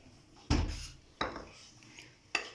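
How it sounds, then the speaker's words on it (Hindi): Chickpeas are tipped into a bowl for chana chaat in three separate loud knocks and clatters, each one sharp at the start and then fading, with short quiet gaps between them. "सबसे पहले हम इसमें चने डाल देंगे।"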